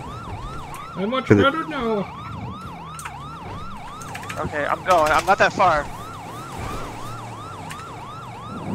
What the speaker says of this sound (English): this police car is going so fast